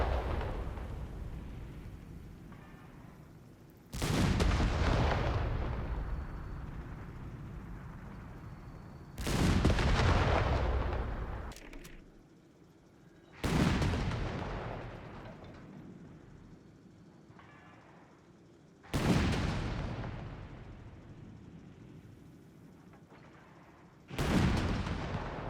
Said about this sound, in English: We've got an M1AT gun against an 8-rad,